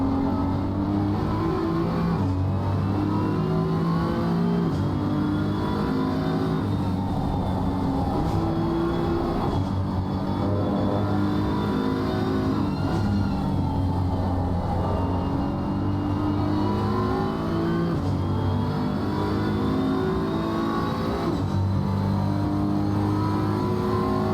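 A BMW race car in a racing video game at Watkins Glen drones steadily at high revs with slow pitch rises and falls through gear changes, loud and continuous with no voices.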